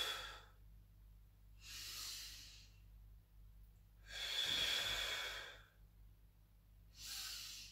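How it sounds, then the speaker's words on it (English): Slow, steady breathing in and out through the nose during a Pilates mobility exercise, with four long airy breaths at a measured rhythm, close and soft, and no talking. "breathe in through the nose as you come back"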